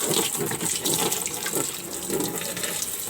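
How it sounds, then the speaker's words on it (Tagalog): Tap water runs steadily into a washing machine being tested for a drain fault, a continuous close splashing rush with no talk over it. "Lagyan natin ng tubig."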